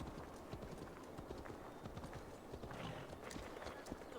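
Horse hooves clip-clop in a steady rhythmic trot in the Assassin's Creed Valhalla video game, quiet and continuous with a faint background bed.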